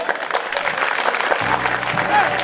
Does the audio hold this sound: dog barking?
no